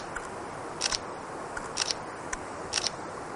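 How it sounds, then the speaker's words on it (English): A camera takes a set of bracketed exposures on a two-second timer, giving three crisp shutter clicks spaced about a second apart, close and fairly quiet over faint background hiss. "Once I press it down, it'll wait 2 seconds, and then it'll take all of the brackets"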